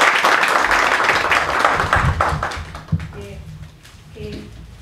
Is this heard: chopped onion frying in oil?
no